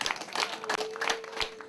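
Scattered clapping rises from a wedding gathering in Rwanda, a brief burst of applause from a small crowd with overlapping claps at moderate volume and no talking.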